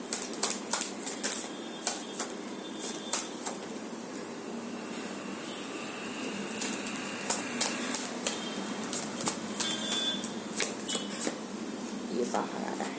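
Tarot cards being shuffled by hand, a run of crisp riffling flicks and taps over a steady low hum, close and fairly quiet, with a voice talking now and then.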